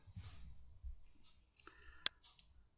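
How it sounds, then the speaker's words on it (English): A Ctrl L shortcut pressed on a computer keyboard, a few soft key clicks and one sharp, distinct click in an otherwise quiet room. "I am going to press Ctrl L on the keyboard."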